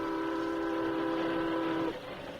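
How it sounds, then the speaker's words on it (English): A steam train rolls on with no sign of slowing, a steady loud chuff-and-rumble with sustained whistle-like tones that fall away abruptly near the end, staged as a radio drama sound effect. "the train isn't slowing down at all"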